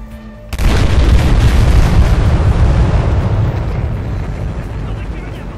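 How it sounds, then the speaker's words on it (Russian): A massive explosion in the video game Battlefield: Hardline bursts suddenly and loudly, then rumbles on in a long, slowly fading roar of debris and fire. "Это был взрыв, пацаны"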